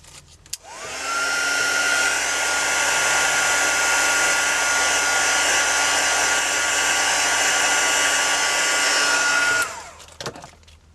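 A hair dryer drying a freshly stamped card for a mixed media project, switching on with a rising whir, blowing steadily and loudly close by for about nine seconds, then cutting off.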